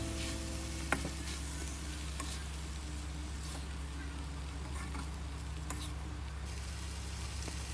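Meat, tofu, tempeh and potatoes cook together in a pan with a steady, low sizzle and occasional stirring scrapes, with no talking over it.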